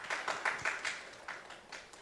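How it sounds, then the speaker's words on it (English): Scattered, fairly faint clapping from a forum audience in Hong Kong, a few hands beating in a loose, uneven rhythm of distinct claps for about two seconds. "Let's give him a warm round of applause."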